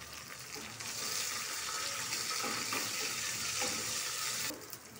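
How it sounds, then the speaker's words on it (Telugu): Sun-dried chillies frying in a pan with onions give a steady, close, bright sizzling hiss that swells after the first second and holds before easing off near the end. "ఇప్పుడు వరగేసుకుందామండి. వరుగు చేసుకున్న ఎండుమిర్చి"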